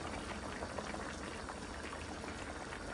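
Rohu fish curry with beans, potato and tomato simmering in a pot, a steady, close bubbling and sputtering boil that runs without a break, with no talking.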